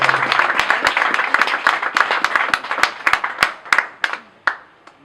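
An audience at a union headquarters inauguration applauds, a burst of close, crisp hand claps that thins out into a few scattered final claps.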